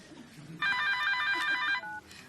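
A telephone rings indoors: one clear burst of bright electronic trilling tones lasting about a second, moderately close, set against quiet room background.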